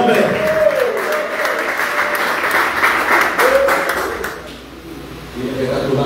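A church congregation applauds during a sermon, with broad, sustained clapping close and loud, mixed with voices calling out, then thinning briefly before the clapping and voices rise again.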